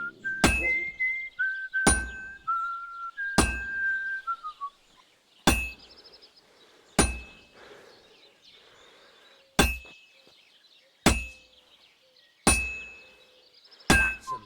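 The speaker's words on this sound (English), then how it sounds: "Some nice whistling." A blacksmith character in Kingdom Come: Deliverance 2 strikes a sword blade with a hammer in sharp, evenly spaced metallic clangs, whistling a short stepping tune between the early blows, then hammering on alone.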